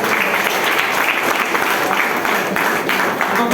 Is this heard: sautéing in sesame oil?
no